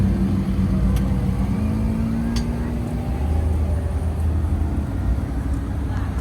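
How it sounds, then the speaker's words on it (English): Bright red 1957 car with an LS engine swap idling at a rod run, a low steady rumble under passing traffic and background crowd noise, with faint voices. "Here's a really bright red 57. They've done an LS swamp on it here."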